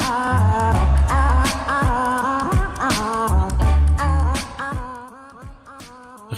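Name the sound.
beatboxer imitating throat noises, a cappella beatbox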